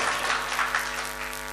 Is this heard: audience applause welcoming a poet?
yes